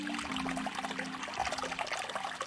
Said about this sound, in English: I'm running the water.